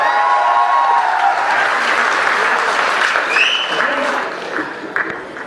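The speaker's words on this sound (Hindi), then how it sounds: "हाथ उठा के मुझे बताएं तालियों के साथ।" Audience applause at a Hindi comedy poetry gathering, loud sustained clapping from a crowd that gradually thins and fades toward the end, with a few scattered voices rising as it dies down.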